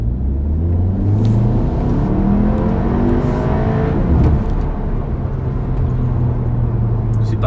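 Cupra Ateca 300 hp SUV engine while driving, a loud steady drone with rising and falling harmonic tones as revs shift through gears, heard from inside the cabin without talk.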